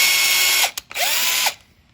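A power drill bores holes through a thin 1.5 mm plastic guitar pick in two short, loud, whining bursts separated by a brief pause.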